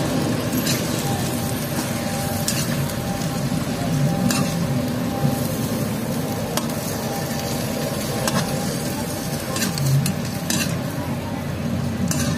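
Chicken liver, gizzards and chicken feet for adobo cook in a pan with a continuous close sizzle, broken by occasional utensil scrapes and stirring clatter.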